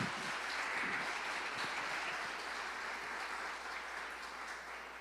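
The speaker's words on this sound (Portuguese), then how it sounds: "Pode bater palmas para Jesus." A church congregation clapping during a worship service, a continuous faint wash of many hands at a distance, steady for several seconds without speech.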